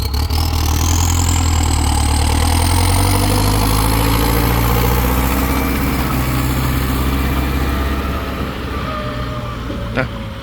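A Ford 5000 tractor engine rumbles loudly and steadily at idle, a deep low throb with a faint rising whine, running throughout without pause.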